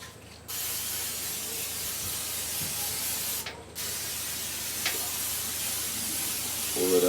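Canola oil sprayed onto a hot steel grill grate before grilling steak kabobs and ribeye steaks, two long loud hissing bursts with a short break between them, then a quieter sizzle.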